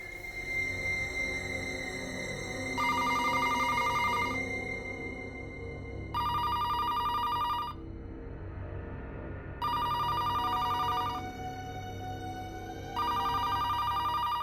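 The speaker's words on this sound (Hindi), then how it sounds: "ये रात को 3 बजे किसका फोन आ सकता है?" A telephone rings at 3 a.m. in a TV crime drama, repeated electronic bursts each lasting about two seconds with short gaps between, loud and close over a low steady background hum.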